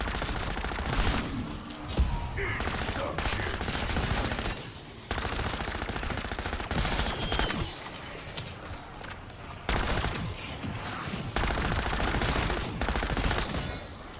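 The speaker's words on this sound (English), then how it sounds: "Imagine if this gun shot like this in multiplayer in Warzone." Rapid automatic gunfire from the Warzone video game, dense bursts of loud shots with brief pauses between them, running almost continuously and close up with no talking.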